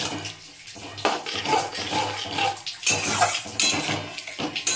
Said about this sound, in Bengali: এই বাটিটা ধুয়ে একটু অল্প জল দেবো